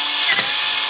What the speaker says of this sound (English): and drill each hole